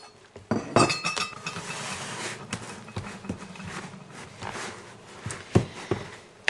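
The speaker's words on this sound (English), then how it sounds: "Adding a little bit at a time makes it much easier to stir and incorporate all this flour." A spoon clatters and scrapes in a bowl as flour is stirred into pizza dough, with irregular close clinks and knocks of utensil on the bowl.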